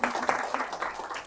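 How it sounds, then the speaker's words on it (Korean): Audience clapping to welcome a professor before a lecture, brief and fairly quiet, with uneven bursts of hand claps from a modest room of listeners. "큰 박수로 맞이해주시기 바랍니다"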